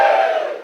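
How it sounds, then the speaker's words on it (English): A comedy show audience lets out a sudden loud cheer, a short burst of massed whooping and shouting that starts abruptly and fades over a fraction of a second. "Give Movember a cheer."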